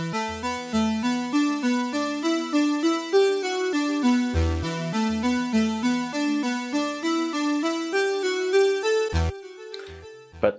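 Electric guitar through a filter effect held at a fixed setting, playing a steady plucked melodic line of clear single notes with low bass thumps, ending in a brief noisy burst.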